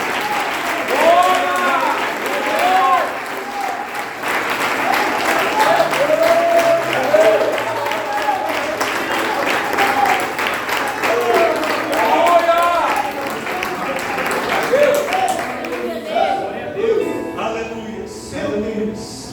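Church congregation applauding during a family service, dense sustained clapping lasting many seconds with voices and cheers over it, fading toward the end.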